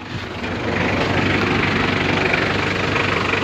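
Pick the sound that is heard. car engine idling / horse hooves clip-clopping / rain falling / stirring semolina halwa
car engine idling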